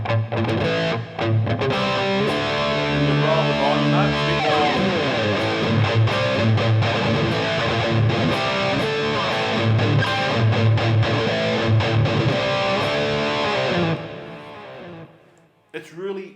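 Ibanez JS100 electric guitar with DiMarzio Evolution and PAF Pro pickups playing a distorted rock tone, loud sustained chords and melodic lines for about fourteen seconds before fading out.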